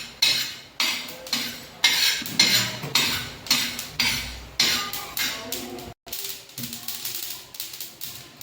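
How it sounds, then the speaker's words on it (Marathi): Sesame seeds roasting on a hot griddle until they crackle, giving a steady run of sharp scraping and rattling strokes about every half second, close and dry, with a brief gap before the stirring resumes. "तीळ तडतडेपर्यंत भाजून घेऊ।"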